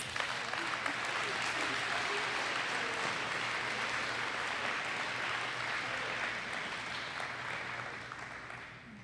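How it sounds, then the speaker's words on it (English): A room full of people applauding at a high school awards assembly, dense steady clapping that holds for several seconds before gradually tapering off. "Yeah, you can clap."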